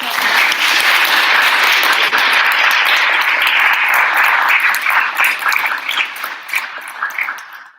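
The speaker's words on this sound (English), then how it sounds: "Could we have another round of applause?" An audience gives a sustained round of dense applause, loud and close, fading toward the end.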